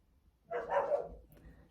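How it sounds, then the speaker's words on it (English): A dog gives a single short bark indoors, faint and somewhat distant, rising briefly out of near silence before a quieter tail of sound. "That's my dog."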